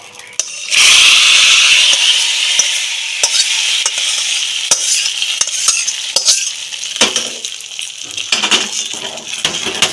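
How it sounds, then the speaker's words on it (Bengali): Vegetarian khichuri being stirred after hot fried tempering of cumin and bay leaves is poured in, a loud burst of sizzling followed by continuous scraping and clinking of a spoon against the pot, close and busy. "ভালো করে নাড়িয়ে নেব যাতে সব মিশে যায় ভালো করে"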